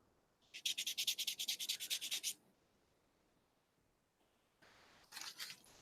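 Pendant being sanded with 400 and 600 grit sandpaper: a fast run of about fifteen rhythmic, scratchy rubbing strokes, then a pause and a shorter, quieter burst of strokes, close and alone with no talking.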